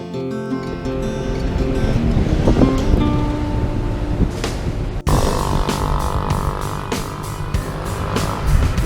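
Steady roaring surf breaks along a long empty beach on a motorcycle trip through Southeast Asia, a continuous wash of waves with heavy wind rumble on the microphone and no voices.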